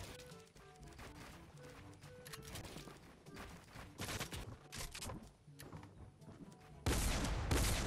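Shotgun blasts and scattered gunfire in Fortnite Mobile during a close fight, several sharp shots spaced irregularly over game noise, ending in a louder, denser burst.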